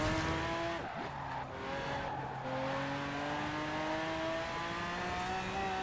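A car accelerating in Forza Horizon 4, with steady engine drone rising in pitch through several gear changes, continuous and fairly loud with a hint of tire noise.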